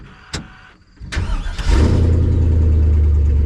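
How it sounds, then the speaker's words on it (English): A car engine is cranked over by the starter with a few brief clicks, catches, and settles into a steady, loud idle at close range. "Start the engine and allow it to idle for 3 minutes."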